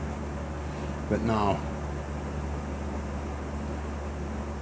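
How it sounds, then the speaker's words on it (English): A fan runs with a steady, moderate whooshing hum throughout a workshop where engine exhaust is being cleared, and someone speaks briefly over it. "Now we're just fighting the fan for right now, the sounds."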